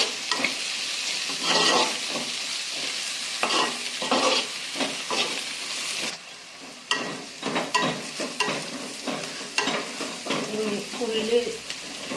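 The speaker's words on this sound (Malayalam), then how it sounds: "അതിലേക്ക് വെളുത്തുള്ളി ഇഞ്ചി പേസ്റ്റ് ഇടാം" Onion with garlic-ginger paste fries in a pan, a loud hissing sizzle broken by repeated scraping stirs, with a brief dip when the paste goes in.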